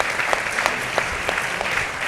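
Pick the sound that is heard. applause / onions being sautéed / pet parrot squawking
applause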